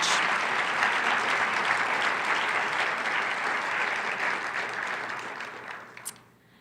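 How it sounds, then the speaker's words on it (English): An audience at an MLK Day student recognition event gives a full, sustained round of applause, steady and dense, tapering off near the end with a final few claps. "Let's give him a round of applause for creating such a thoughtful image."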